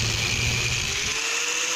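Power tool with a steady high whine cutting through rings to shorten a setup, loud and continuous the whole time, a lower hum fading partway through.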